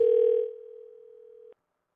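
Telephone line tone during a callback through an Atlanta phone service: a single steady electronic tone, loud at first, dropping to a quieter level after half a second, then cutting off abruptly at about 1.5 seconds, with no talking.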